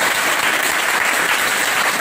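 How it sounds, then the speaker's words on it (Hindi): An audience claps for an instructor at a training session on IC reballing and component repair, producing a dense, steady, loud wash of applause throughout with no pause. "फिरोज सर के लिए बस आप लोग ताली बजा दीजिए एक बार,"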